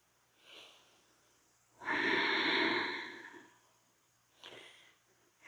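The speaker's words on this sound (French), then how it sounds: "Je reste ici sur 3 respirations. Je me concentre sur ma respiration." Slow, audible breaths close to the microphone: a faint inhale, a long drawn-out exhale, then another softer breath.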